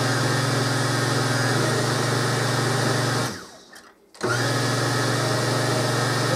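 A blender grinds beans for bean fritters with a loud, steady motor whir close by. It cuts out briefly for about a second near the middle, then starts up again at full strength.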